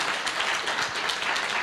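An audience at a community sickle cell blood donation event claps steadily, a dense, loud wash of applause from many hands with no pauses.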